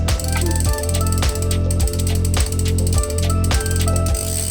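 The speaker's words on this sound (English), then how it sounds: "So when I'm applying it, I just turn the cranks and get a little dot of oil on each of the links." Freewheel ratchet on a bicycle clicking steadily as the cranks are turned backward while oil is dripped onto the chain links, a loud, close, rapid pawl rattle with a regular rhythm and no talking.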